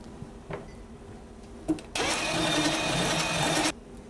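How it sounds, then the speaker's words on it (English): A brisk whisk beats lemon juice into sabayon, a steady scraping whir that runs loud for about two seconds after a couple of faint clinks, then stops. "I'm going to start whisking again. And I'm going to add about 1/3 of this lemon juice and whisk it in."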